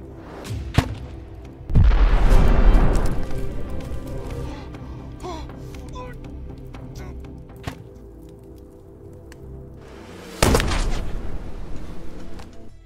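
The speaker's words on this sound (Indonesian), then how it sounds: "ia pun turun dari bukit untuk menyerang Black dan mereka berdua kembali saling baku tembak" Gunfire in an action film shootout, with loud booming bursts near 2 seconds and again near 10.5 seconds over a constant dense film soundtrack.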